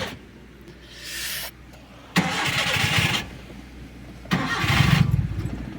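A car left out in the cold is cranked repeatedly, with three separate bursts of starter grinding, each ending as the engine struggles to catch, close and clear with no talking.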